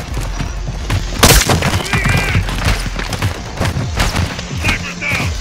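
A single sharp, loud sniper rifle crack stands out amid continuous battlefield gunfire and shouting soldiers in Modern Warfare 2's combat.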